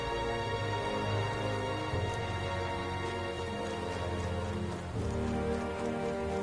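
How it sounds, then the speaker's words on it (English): Steady, dense rainfall in the video game Metaphor: ReFantazio, a continuous hiss of rain on surfaces layered over sustained game music and ambience, with no speech. "rain."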